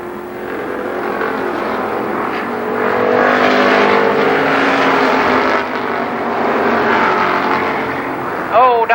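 Race cars roar around the oval at Columbus Motor Speedway, a dense, loud, continuous engine drone from the pack, with an announcer talking over the action.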